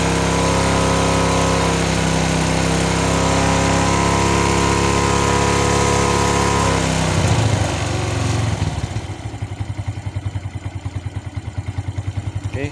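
A small motorcycle engine with a freshly adjusted carburetor runs loud and buzzy, then its revs drop and it settles into a steady, pulsing idle with a light rhythmic clatter, heard up close.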